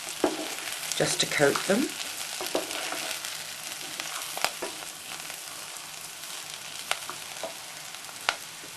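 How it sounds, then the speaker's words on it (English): Vegetables stir-frying in a hot pan for broccoli and Stilton soup, giving a steady close sizzle with scraping stirs and soft clicks of a utensil. A voice speaks briefly near the start. "and stir fry just for a minute or so."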